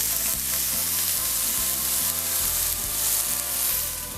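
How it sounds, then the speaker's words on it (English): Onions fry and brown in oil in a pan, giving a loud, dense, continuous sizzle under a droning musical backing. "get some browning on these onions"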